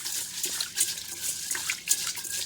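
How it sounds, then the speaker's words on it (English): Rice being rinsed under a running tap for squash congee, a steady faucet stream splashing into a bowl with small drips and swirling water sounds, close and alone without talk. "First, I'm going to rinse the rice."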